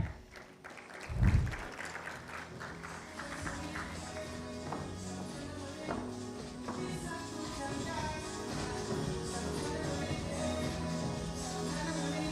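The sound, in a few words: audience applause at a conference forum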